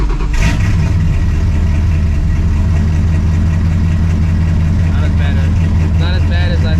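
Procharged, cammed New Edge Mustang GT fires up from cold outdoors, a sharp catch followed by a loud, steady rumbling idle with a deep low drone throughout; a voice talks briefly near the end.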